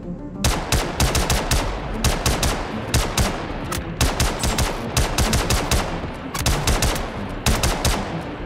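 Rapid bursts of automatic gunfire aimed at the player in Star Citizen during a surface raid in extreme weather, loud and close, firing in steady repeated volleys with no talk.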